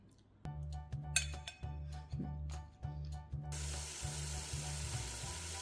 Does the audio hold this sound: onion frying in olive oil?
yes